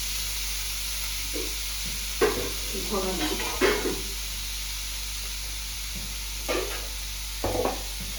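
Grated coconut is stirred in a pan, with a soft, steady sizzle and a few louder scraping strokes at intervals, close up and quiet under a constant low hum.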